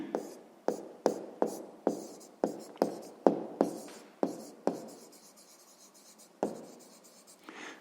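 Pen or pencil writing by hand during a sixth-grade maths exercise: a series of close, sharp taps and scratchy strokes in quick uneven rhythm, thinning out toward the end, with no talk.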